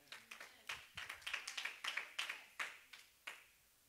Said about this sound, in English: I'm going to stop so you can clap your hands and shout for a minute